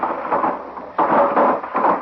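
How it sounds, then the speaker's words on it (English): A thunderclap breaks during a heavy rainstorm, a loud, close rumble over steady rain that swells again partway through. "That thunderclap jarred it loose."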